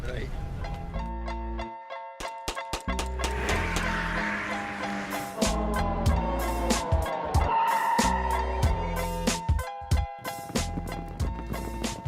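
Rushing, turbulent river water roars steadily as a staged sound effect, with bursts of music and busy activity layered over it and voices speaking through much of it.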